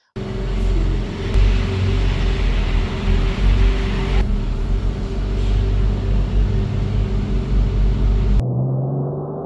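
A BMW E28 M5 with a 3.5 litre inline six is idling close up. A loud, steady low rumble runs throughout before cutting off sharply near the end, with no talking over it.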